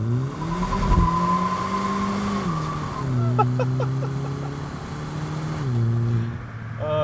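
A 2019 Hyundai Elantra GT N Line with a dual-clutch gearbox launching at full throttle in first gear, the engine note climbing steadily in pitch through the revs, close and loud, with a brief tire chirp near the start.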